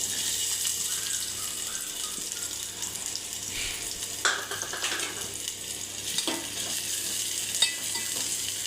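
Finely chopped onions fry in hot oil with a soft, continuous sizzle, and a few sharper stirring clinks and scrapes sound at intervals, close but fairly quiet, with no talking.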